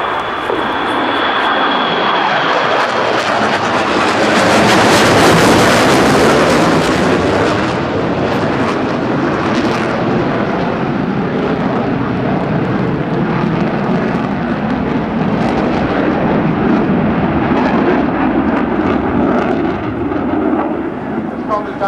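A four-plane formation of propeller planes roars overhead at an airshow, the loud engine drone swelling to a peak then slowly fading, with faint voices underneath.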